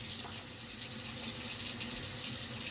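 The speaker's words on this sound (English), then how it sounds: "I always wash out my sink." Tap water running steadily into a kitchen sink while it is rinsed out after dishwashing, a continuous close splashing hiss with no voices.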